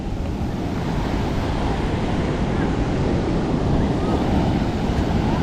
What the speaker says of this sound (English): Waves is crazy.